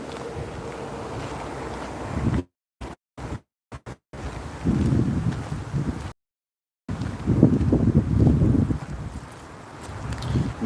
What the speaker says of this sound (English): Bloody wind. I hate you, wind.